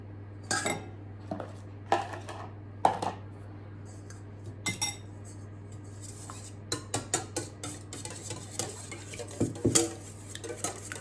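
Eggs for an apple cake are whisked in a bowl, producing light, irregular clinks and scrapes of a utensil against the dish over a low steady hum, quiet and close.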